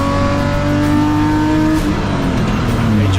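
A BMW M race car engine howls loud and continuous in a BMW M Performance Parts Race Series Class D race, revving with steady harmonic pitch that drops as it shifts and passes.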